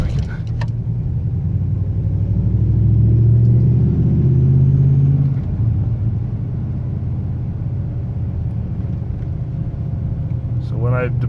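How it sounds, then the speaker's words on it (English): A 2003 Ram pickup's Hemi V8, fitted with a Taylor Helix throttle body spacer, idles with a deep steady rumble that swells briefly as the throttle is pressed, then settles back while someone talks over it. "Yeah, the pitch mostly follows your throttle position, not so much the RPMs."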